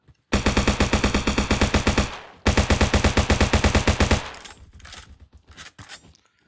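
MP40 submachine gun in the Roblox game Bad Business firing close and loud in two long full-auto bursts of rapid, evenly spaced shots, followed by fainter scattered clicks and rattles.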